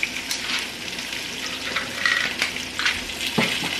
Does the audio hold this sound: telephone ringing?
no